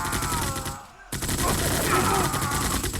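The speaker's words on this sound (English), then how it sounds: "Look at those bullets fly" Rattling bursts of rifle and machine-gun fire from soldiers in a Great War-era strategy video game, briefly dropping out before a dense, continuous volley resumes.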